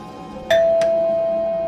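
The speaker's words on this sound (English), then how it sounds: "When the doorbell rang, Bear was in the living room watching the television." A doorbell sounds indoors with a clear two-tone chime, the first strike leaving a long sustained ring that lingers while a second strike follows shortly after, with no voices present.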